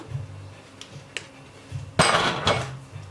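Baked mixed fruit and sweet potato bread is knocked out of its tin, a sharp metallic clatter and bang near the two-second mark with a second knock after, preceded by a few light taps.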